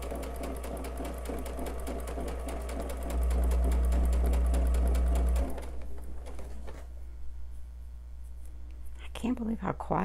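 A sewing machine stitches quilt fabric for a star sampler block, its fast running whir steady and close for about five seconds before stopping, with a loud low hum beneath and a voice talking over it.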